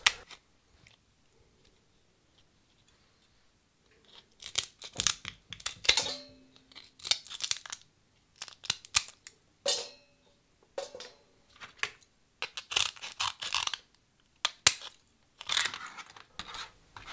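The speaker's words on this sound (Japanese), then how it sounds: "そして頭の方の殻をまず半分に切って小さくハサミを使って" Small kitchen scissors snipping through a lobster head shell, a series of close, sharp crunching snips and clicks in irregular bursts after a quiet start.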